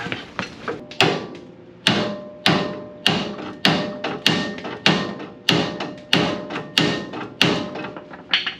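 Hammer blows land in a steady rhythm, about fifteen sharp metallic strikes roughly half a second apart, close by and loud, while removing ball joints and tie rods on a bullnose Ford truck.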